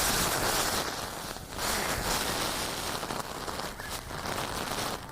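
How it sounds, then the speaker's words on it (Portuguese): A firefighting aircraft's heavy water drop pours straight down onto a television reporter as a dense, loud, continuous roaring downpour, like torrential rain hitting the ground all around. "O jato de água foi tão forte que o som do impacto abafou até o ruído das turbinas"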